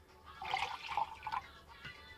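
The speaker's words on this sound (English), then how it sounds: "I'm going to add the water." Water pouring into a container for fritter batter in a home kitchen, a short splashing, gurgling stream that swells and then trails off into a few drips, close by with no talking.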